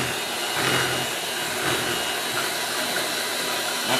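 An electric hand mixer beats eggs for a sweet potato pie, a steady loud whirring hiss that runs unbroken without talk.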